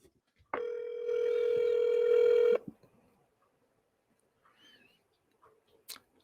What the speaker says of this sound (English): And we are ringing.